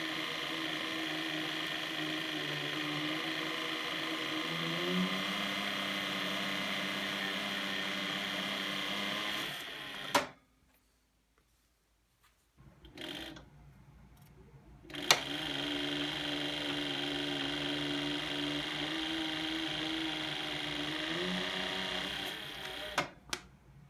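A leather splitter cuts hide down to 4 to 5 ounces, with a steady mechanical hum and whir running close and continuous, a brief quiet gap midway, then the droning motor resuming.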